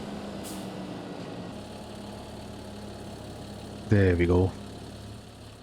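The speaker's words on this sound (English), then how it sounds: "I will jump onto the New Holland tractor and will proceed towards the temple construction site" A New Holland tractor engine in a farming video game hums at a steady low idle throughout, with a short spoken remark near the end.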